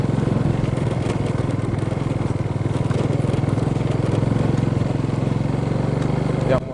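A motorcycle climbs a steep, rocky stone road toward tea plantations, its engine droning loud and continuous at close range, with crunching and rattling from the rough surface.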